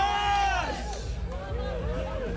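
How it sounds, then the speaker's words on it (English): Loud indoor bar crowd babble in Need for Speed (2015) with overlapping voices, and music drifting through the din, steady throughout. "we're in a bar and it's pretty loud with the music in the crowd"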